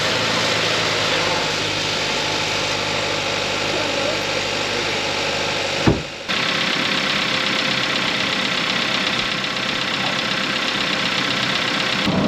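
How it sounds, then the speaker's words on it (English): A 2024 Kia K5 engine idles throughout with a constant mechanical hum, broken briefly midway by a short clunk and dip before the rumble resumes. "So we're gonna start the engine up and we're gonna see if it leaks underneath here as well."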